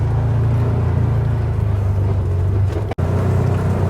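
A Can-Am Defender Pro HD10 UTV drives through mud, its engine a steady, loud low drone close by that cuts out abruptly for a moment near the end before resuming.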